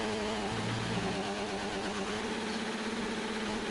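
A hybrid race car engine revving at 13,000 RPM in a racing game, a constant, loud, buzzing drone that holds steady throughout with a faint lower tone underneath.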